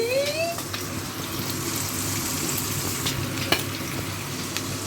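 Fish fries in hot oil in a home kitchen, giving a steady close crackling sizzle with scattered sharp pops and no talk.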